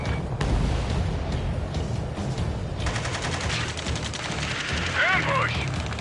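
In the combat flight game Ace Combat 7, gunfire from the far shore crackles in dense bursts over a heavy rumbling battle din, with a voice briefly heard amid the noise.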